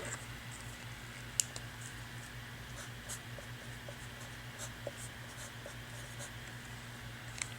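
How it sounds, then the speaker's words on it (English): Pen or pencil writing a math answer by hand on paper, faint scratchy strokes with a few soft taps, close and quiet over a steady electrical hum, with no talk. "So let me write that down."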